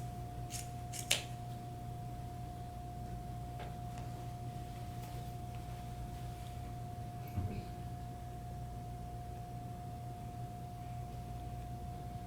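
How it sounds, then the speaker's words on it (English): Scissors snip the corners of a sewn fabric collar and shirt in a quiet sewing room, a couple of sharp faint cuts near the start and one softer snip later, over a constant low hum. "Let's snip these corners before we do that."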